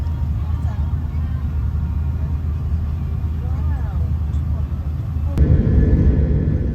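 Jet airliner taking off at sunrise, heard from inside the cabin as a loud, steady low-pitched roar that swells and grows heavier during the last second or so.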